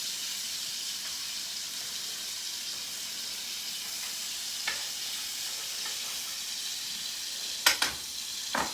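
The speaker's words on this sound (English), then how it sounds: "You want it nice and sizzling hot when you put your steak in it" A steak sears in a very hot pan, giving a steady, fairly quiet sizzling hiss with a few brief clicks and clatters near the end.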